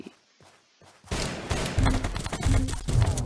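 Rubber-gun RPG fire in the Zombs Royale battle game, a loud dense burst of repeated booming shots and thuds starting abruptly after a quiet second and continuing to the end.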